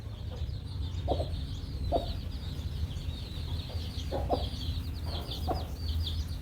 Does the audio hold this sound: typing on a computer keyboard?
no